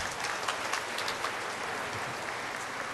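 An audience at a church homily clapping loudly, a continuous crackling patter of many hands without a clear break.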